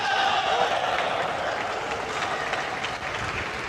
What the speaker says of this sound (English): You could hear the roar, the cheer from the side of China as well.